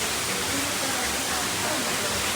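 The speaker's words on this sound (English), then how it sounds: "Got a waterfall here." An indoor waterfall inside a large knife store in Sevierville, Tennessee, pours with a constant broadband rush of splashing water, steady and enveloping, with no clear talk over it.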